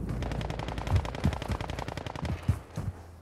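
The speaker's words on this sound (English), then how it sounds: "Oh, I hear shooting up here." Rapid automatic gunfire in Warzone 2.0, a dense burst of machine-gun shots with a few heavier cracks, loud and continuous for the whole clip.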